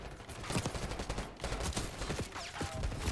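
Dense gunfire and grenade blasts from a Call of Duty Black Ops 6 multiplayer match, a near-continuous volley of overlapping shots with heavier explosive thumps throughout, loud and close with no pauses.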